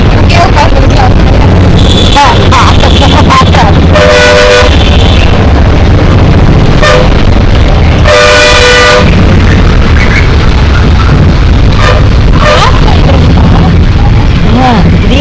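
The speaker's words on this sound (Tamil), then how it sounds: "ட்ரெயின் வருது. அது வந்து இந்த ட்ரெயின் இந்த ட்ரெயின் அது என்ன ட்ரெயின் தெரியுமா? Passenger train." Loud passing passenger train with repeated horn blasts, rumbling and clanking, while someone talks over the noise.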